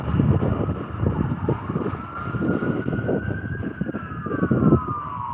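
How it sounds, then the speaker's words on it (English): An ambulance siren wails in a steady rising and falling tone as it passes at moderate distance, over a low rumble of traffic. "Oh, I'm hearing an ambulance."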